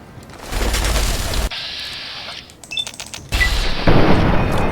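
Gunfire in Fallout 3: several loud, sharp booming shots in quick bursts, with a brief gap of quieter mechanical clicks between volleys and no talking.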